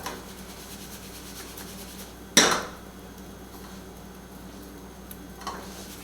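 A single sharp metallic clank of a pan or utensil sounds against a quiet kitchen background while an omelette with feta cooks, followed later by a faint light tick.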